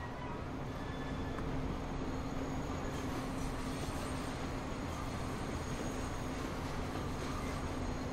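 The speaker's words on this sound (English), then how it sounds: "The Russian train looks as though it's catching up." Trains race along the tracks in Transport Fever, rumbling steadily with a constant low hum and rattling wheels, continuous and fairly loud throughout.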